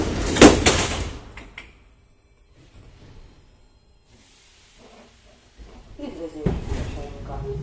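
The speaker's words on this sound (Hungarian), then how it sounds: "Kérem, vigyázzanak, az ajtók záródnak." A Budapest metro line M3 MMZ EV3 train closes its doors with a loud pneumatic hiss and thud at the start, then near silence before another burst of hiss and rumble.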